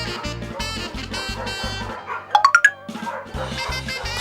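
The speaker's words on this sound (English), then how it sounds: "Puppies barked at bunnies." A cartoon puppy gives four quick, rising yips in a tight burst, loud and close, cutting through lively background music.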